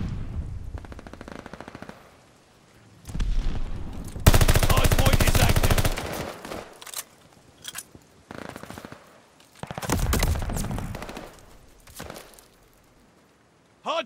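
Automatic weapon fire from the video game Call of Duty: Vanguard bursts loudly in long rattling volleys separated by brief pauses, with scattered single shots and short sharp cracks between the bursts.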